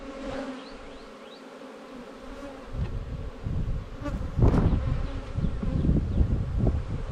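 Honeybees humming around an open hive during an inspection, a continuous buzzing swarm that swells louder and closer partway through, with wingbeat tones rising over a dense insect drone.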